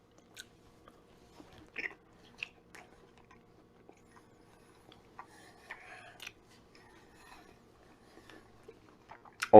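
Someone bites into and chews key lime pork ribs, with a few soft crunchy bites and quiet chewing sounds spaced through an otherwise quiet stretch, close to the mic.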